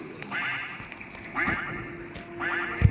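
Repeated nasal duck quacks in short bursts from a duck in Roblox, three clusters spaced about a second apart, with a steady electronic hum beneath and a thump at the end.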